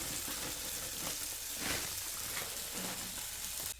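Food being stirred and fried in a pan during a late-night home cooking session, a steady broadband sizzle running throughout with soft scraping stirs, close and fairly quiet, no talking.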